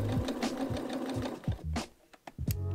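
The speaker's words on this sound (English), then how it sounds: "When sewing, I keep my eye on the stitch line that I drew in." A sewing machine runs steadily up close, stitching a scalloped curve on a dress trim, its needle chattering in a fast, even rhythm with a brief slowdown before it picks up again.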